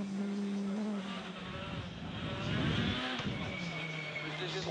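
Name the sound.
rally car on studded tyres, Monte Carlo Rally stage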